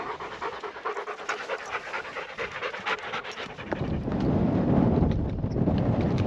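Working farm dogs pant hard and rapidly after mustering sheep on a New Zealand ridge, quick breathy gasps close to the microphone, with gusting wind buffeting and growing louder toward the end.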